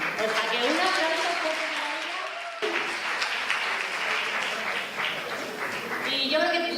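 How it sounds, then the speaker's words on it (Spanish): Sustained applause from the audience at a municipal gala in Jarandilla de la Vera honouring a women's futsal player, steady clapping that fills the room and continues throughout, with a brief dip partway. "O sea que un aplauso"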